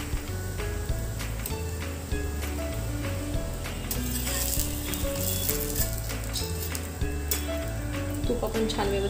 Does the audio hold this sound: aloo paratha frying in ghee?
yes